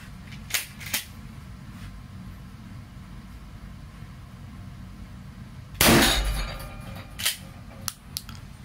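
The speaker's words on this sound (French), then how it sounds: "maintenant les tirs. Brenneck" 12-gauge Brenneke slug fired at an NIJ III armor plate: a few sharp cracks early on, then one loud close blast with a decaying tail around the six-second mark, followed by several smaller knocks and clangs.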